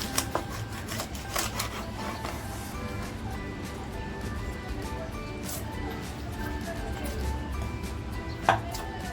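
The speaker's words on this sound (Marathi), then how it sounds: "आता आपल्याला ना हलव्याचे कसे पीस पाहिजे तसे कापून घ्यायचे" A knife cuts a cleaned black pomfret into pieces on a board, giving a steady run of close, soft chopping taps with one sharper knock near the end.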